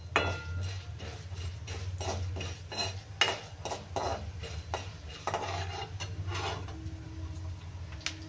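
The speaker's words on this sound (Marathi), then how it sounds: "1 चम्मच अशी उडदाची डाळ, आणि 1 चम्मच अशी चण्याची डाळ। तर आता आपण हे छान भाजून घेऊया" Urad dal and chana dal roasting in a dry pan, a spoon tapping and scraping in quick repeated strokes over a low background hum, fairly quiet.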